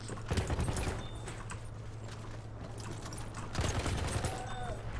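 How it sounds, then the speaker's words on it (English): Gunfire in the Battlefield 1 video game, a few loud bursts of shots near the start and again around the four-second mark over a steady low rumble of battle noise. "I thought those shots were coming from behind me"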